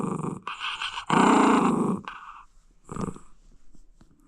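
Small dog growling close by, in several bursts: a short rumble, a longer loud snarl, and then a brief final growl with breathy pauses between.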